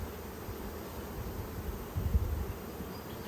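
A freshly caught swarm of honey bees hums at the hive, a faint, steady low buzzing that swells slightly midway, with no voices.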